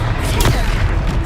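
A Confringo blast spell explodes in Hogwarts Legacy during a troll fight: one loud, booming burst, with continuous battle rumble and a voice underneath.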